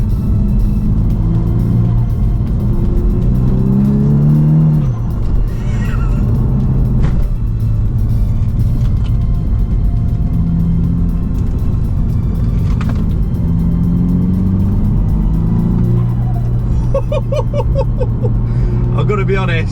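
Engine of a Volkswagen Scirocco R heard from the cabin while driving, a steady low rumble with rising and falling harmonic tones as it pulls, continuous and fairly loud with road noise throughout.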